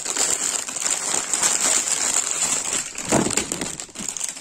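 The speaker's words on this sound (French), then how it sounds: "je vais sortir du papier qui fait du bruit" Paper crinkles and rustles continuously up close as it is handled and unwrapped, with a sharper crumple near the end.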